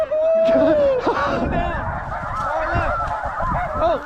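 A large flock of snow geese honks loudly and continuously close by during a spring conservation hunt, with dense overlapping calls, one long clear honk at the start and brief shouting voices mixed in.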